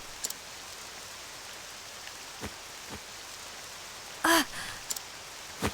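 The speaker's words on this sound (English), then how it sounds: "It's the rain." Rain falls steadily as a soft, even hiss in the video game Octopath Traveler II, with a few brief louder clicks and blips from the game over it.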